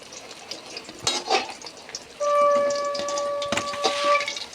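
Halua chanda fish fries in hot oil in a wok, giving a soft bubbling sizzle. Scraping and knocking from a spatula break in now and then, and a faint steady tone hums underneath. No voices.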